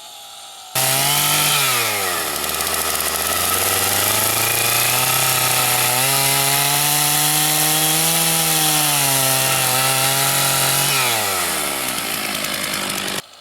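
A chainsaw cuts a dovetail mortise into timber stock, running loud and close for about ten seconds with its pitch dipping and rising under load, starting abruptly and dropping back to idle near the end.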